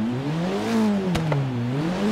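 Abarth 695 Biposto with a 1.4-litre engine revving in the racing game Forza Horizon 3, a steady close engine drone whose pitch rises and falls over about two seconds, heard alone.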